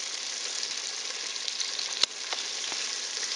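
Battered fish balls in hush puppy mix fry in hot oil, giving a steady, even sizzling hiss up close, broken once by a sharp click of a spatula turning them.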